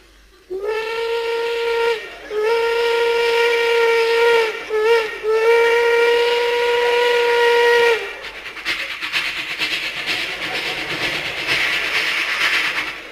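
A voice imitates a train whistle, holding a long wavering hoot broken by brief pauses, followed by a chuffing, rumbling train-like noise.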